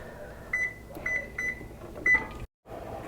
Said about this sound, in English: I'll set the timer, like I said, for 30 minutes.